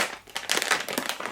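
Cardboard package being cut open with a pair of scissors while unboxing herbs, giving a steady run of close crinkling and crackling bursts with no talk.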